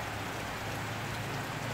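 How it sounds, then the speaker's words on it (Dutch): Steady rain falls outdoors in the Florida-style setting of a manatee swim, a dense, even hiss of drops pattering without pause, with no talking. "zij vindt de regen ook niet zo leuk"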